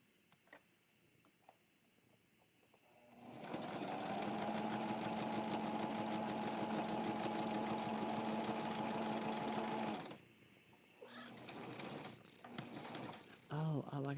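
A sewing machine stitches fabric for a comfort doll with a very small, tight stitch, a close, steady mechanical whir lasting several seconds before stopping, followed by softer handling sounds and a short burst of stitching.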